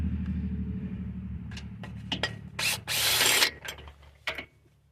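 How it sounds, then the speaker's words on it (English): Bolts on a trailer A-frame jack being loosened and removed with a breaker bar, a close sequence of ratcheting clicks and metallic scrapes, with a louder burst of rasping mechanical noise midway before it trails off. "Once the breaker bar's work is done, these should easily be able to be removed."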